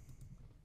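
Computer keyboard keys tapped in quick succession, a short burst of faint, soft clicks close by, with no talking.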